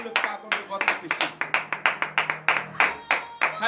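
A congregation at a morning prayer service in Benin claps in a steady, rhythmic beat of sharp, distinct hand claps, close and clear, as part of joyful acclamation.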